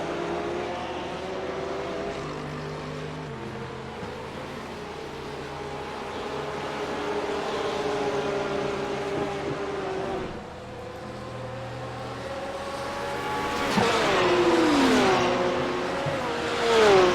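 GT3 race cars battling at the Oschersleben circuit, engines droning steadily with layered harmonic whine, then a louder car sweeping close with rising and falling revs near the end; no talking.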